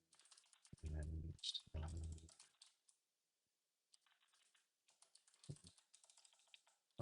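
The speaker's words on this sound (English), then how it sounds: "Oh, I'm typing this in the wrong spot." Computer keyboard typing while working on a programming language, bursts of quick clicky keystrokes close by with pauses between, and a voice speaking briefly near the start.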